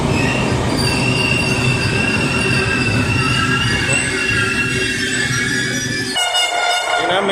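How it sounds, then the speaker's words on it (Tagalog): An LRT Line 1 light rail train pulls into Redemptorist station with a loud, continuous rumble and wheel squeal, then a sharp horn-like tone sounds near the end. "May parating na train."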